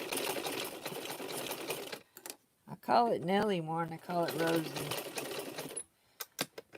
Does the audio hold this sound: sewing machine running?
yes